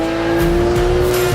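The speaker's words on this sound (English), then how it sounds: "So if you put the foot down on the floor, you immediately get a response from the car." A Porsche 911 GT2 RS engine roars under full throttle, a loud, steady, close-up drone with a strong sustained tone and brief pulses of added rasp as power builds.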